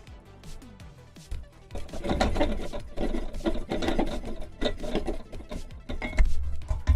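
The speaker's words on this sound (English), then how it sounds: "So if I gently lift this and unscrew this leg" A leg being unscrewed from a stand-up desk in a studio: close, repeated rasping and rubbing of wood and metal with scattered knocks and creaks, growing busier and louder partway through, with no talk.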